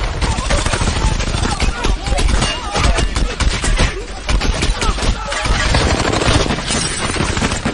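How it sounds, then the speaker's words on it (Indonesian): Dense, loud bursts of gunfire from a film shootout between soldiers and militants, a constant rapid rattle of shots with someone narrating over it. "di tengah aksi saling adu tembak itulah"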